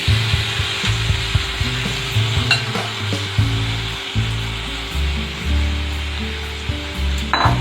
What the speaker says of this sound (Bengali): নেড়ে মিশিয়ে দিচ্ছি।